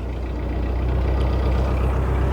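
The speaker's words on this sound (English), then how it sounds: "I'm just going to give a few more revs as well" A canal narrowboat's engine runs at raised revs while cruising slowly on a canal, a steady, loud low-pitched diesel drone with continuous throbbing and no voices.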